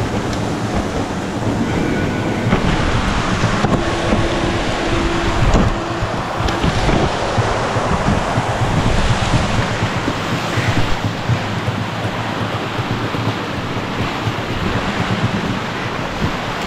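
Mountain waterfall rushing, a loud, dense, unbroken roar of falling water heard up close and alone, steady throughout.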